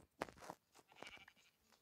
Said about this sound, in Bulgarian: Овцички!